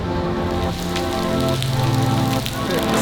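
Rain pours steadily in Singapore, a dense close patter on surfaces continuing throughout without pause.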